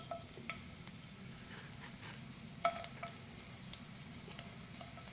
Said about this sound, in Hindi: जैसे ऑयल थोड़ा सा गर्म हो जाता है फिर इसमें लहसुन के जवे शामिल करेंगे